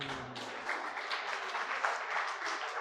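Audience applause at a spiritual discourse, a steady patter of many hands clapping at moderate loudness, running continuously, with a faint voice under it at the start.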